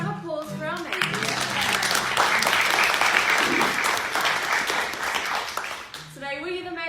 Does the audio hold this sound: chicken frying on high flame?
no